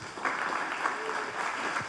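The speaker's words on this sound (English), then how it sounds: "Let's give a round of applause to these guys." Audience applause for gaming industry panelists from Riot, PlayStation and Bungie at the close of a talk, a steady brief burst of clapping with faint voices mixed in.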